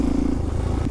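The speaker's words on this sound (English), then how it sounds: "I'm just gonna hit a few more wheelies and go home." A supermoto motorcycle revving hard in a wheelie, giving a loud, steady engine drone with a rough, pulsing low growl, close and filling the whole short moment.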